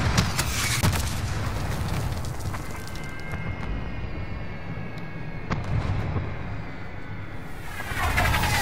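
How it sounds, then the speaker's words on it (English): Deep booming blasts and rumbling fire fill the Call of Duty Warzone battlefield, with a heavy burst at the start and another swell near the end. "There's too many explosions."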